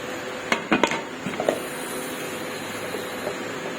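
A metal pressure cooker lid is set and fitted onto the pot in a home kitchen, giving a few close metallic clanks and clicks over a quiet background hum.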